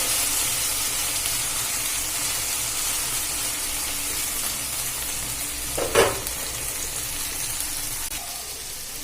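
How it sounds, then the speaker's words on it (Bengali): Okra stirred and fried in a pan gives a steady, close sizzle with a continuous crackling hiss, and a single brief scrape of the utensil rises midway. "আমি এটা নাড়াচাড়া করে খুব ভালো করে ভেজে নেব"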